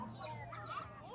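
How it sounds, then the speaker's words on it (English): Chicks and ducklings for sale at a night market stall in China, with a busy chorus of soft peeping and clucking fowl calls, close and steady, over a murmur of crowd noise. "little chickens for sale"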